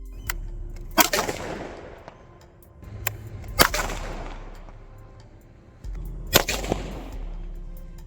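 Thin strips of aluminum foil explode under a 4,000-joule capacitor discharge, three sharp, very loud cracking blasts a few seconds apart, each trailing into a rumbling decay.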